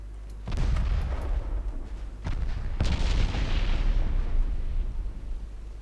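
Warship secondary guns fire in Ultimate Admiral: Dreadnoughts, several loud booming shots in quick succession, each followed by deep rumbling that runs continuously through the stretch, with no talk.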